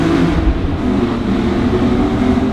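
A BMW E46 M3 CSL's naturally aspirated engine with carbon intake roars steadily at high revs from inside the cabin, a loud continuous drone with no talking.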